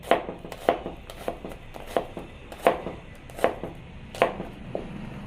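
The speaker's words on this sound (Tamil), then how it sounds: "இந்த பாதி வெங்காயத்தை வந்து சைஸ் கட் பண்ணிக்கணும்" Half an onion is cut into pieces on a board, giving about a dozen crisp, close knife chops in an uneven rhythm.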